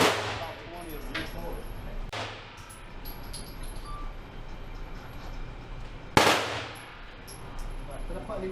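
Indoor gun store range with single gunshots fired one at a time, two sharp loud reports several seconds apart, each followed by a ringing room tail.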